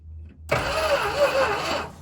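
A long-abandoned Plymouth Trail Duster with a big block engine cranks over in one continuous grinding spin lasting more than a second, close and fairly loud, with no talking.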